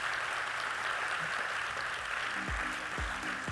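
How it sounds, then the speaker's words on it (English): An audience in a hall applauds after a fireside chat with a young cabinet minister, a steady, even roar of clapping that continues at constant level, with a few low thumps near the end. "Can we give a round of applause to YB Syed Saddiq?"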